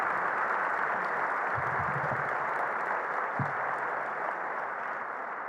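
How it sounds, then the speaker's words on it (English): An audience at an annual luncheon applauds the Openlands staff with a sustained, even roar of many hands clapping at moderate distance. It holds steady throughout, with a couple of brief low bumps partway through. "Let's a round of applause for everybody at Openlands who works there."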